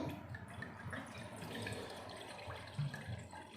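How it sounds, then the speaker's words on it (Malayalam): A faint, steady stream of plain water pours and splashes into a container for a lemon drink, with a soft trickle running throughout. "വെള്ളം ഒഴിക്കാം"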